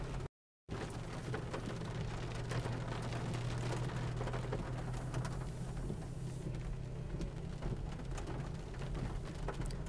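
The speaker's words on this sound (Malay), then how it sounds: "Hari ini pun hujan juga, alhamdulillah." Heavy rain pours steadily outdoors in Taiping, Malaysia, a dense, continuous hiss with a low rumble underneath. After a brief dropout near the start it stays loud and unbroken, and no one speaks.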